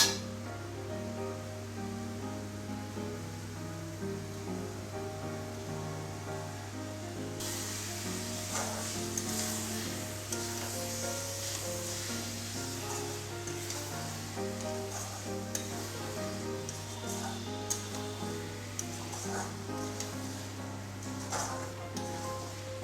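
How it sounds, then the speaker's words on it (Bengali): Fried eggs dropped into a curry masala with whole green chillies for egg curry, sizzling steadily under a continuous broadband hiss that brightens partway through, with no talk. "এখন আমি ভেজে রাখা ডিমগুলো দিয়ে দেবো।"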